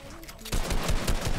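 Rapid bursts of gunfire in a Fortnite duo arena match, loud and dense for about a second after a brief quieter lead-in, with repeated sharp shots close by.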